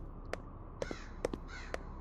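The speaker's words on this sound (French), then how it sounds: "Les corbeaux aussi." Crows caw in the video game Echoes of the Living, four or five sharp, harsh calls spaced evenly over a quiet background, fairly close.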